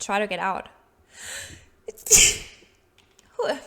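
A single sharp sneeze bursts out between stretches of conversational speech, loud and close, with people talking before and after it.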